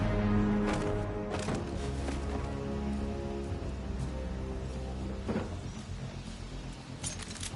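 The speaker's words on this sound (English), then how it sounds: "How come it's always raining these days?" Steady rain pours down in the video game Batman Arkham Knight, a dense constant patter with occasional sharper drops and light knocks, with no voices heard.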